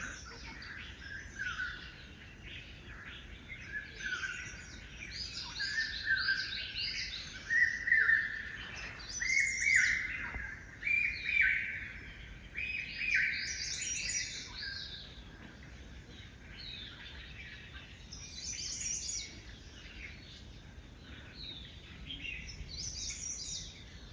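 Outdoors in the wild near Islamabad, a nearby bird sends out a string of bright, warbling chirps and calls, now louder, now softer. Faint insect buzz sits underneath, and no one speaks.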